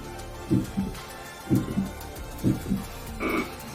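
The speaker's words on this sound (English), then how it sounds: "just try to do heartbeat." A Yamaha keyboard heartbeat sound effect plays four steady, low lub-dub double thumps about a second apart, loud and close with nothing else over them.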